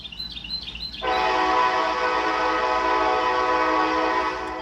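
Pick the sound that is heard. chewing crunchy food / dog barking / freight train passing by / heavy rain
freight train passing by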